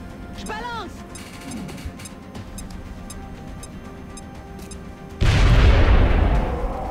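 A grenade blast in the XCOM video game lands as a sudden heavy boom near the end, following quieter ticking game sounds and a chirpy effect; the explosion rumbles loudly for a couple of seconds.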